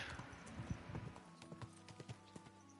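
Horse hooves clip-clopping at a steady walking rhythm in Kingdom Come Deliverance 2, a series of distinct close thuds over a faint game ambience with no talk.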